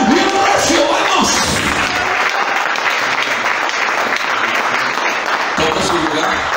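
A church congregation breaks into loud, sustained applause, a dense wash of clapping filling the room, with a voice speaking over it at the start and again near the end.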